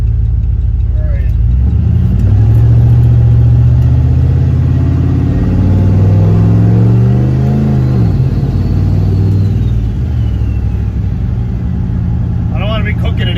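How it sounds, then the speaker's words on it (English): A turbocharged LS V8 swapped into a Dodge Caravan minivan drones loudly from inside the cabin as it accelerates, its pitch rising and falling through the gears. A faint turbo whistle rises midway, and a person talks over the engine. "For a big turbo, this thing howls."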